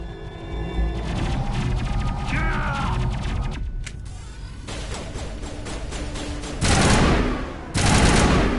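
Loud automatic gunfire in Mass Effect Legendary Edition, sustained rapid bursts close up with brief pauses, mechanical clicks between volleys and a sharp renewed burst near the end.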